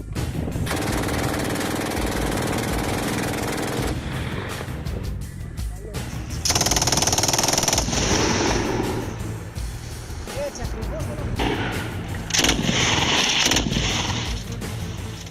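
Bursts of MG3 machine gun fire ring out loud and close in sustained rattling volleys, with a brief lull midway before further bursts resume, over a constant rumbling background.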